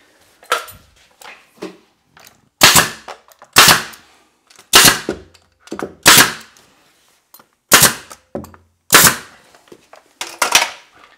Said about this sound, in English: just shoot a couple of nails in it to hold it